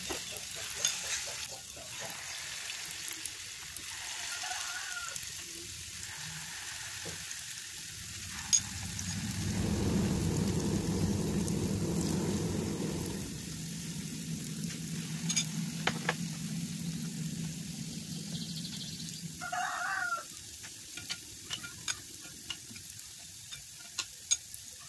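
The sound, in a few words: frying cake batter in a wok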